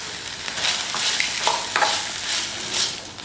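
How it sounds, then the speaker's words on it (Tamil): Mint leaves sautéing in a pan for pudina thogayal, a close, steady sizzle with soft stirring scrapes throughout. "பாருங்கள், புதினா நல்லா வதங்கி இருக்குது"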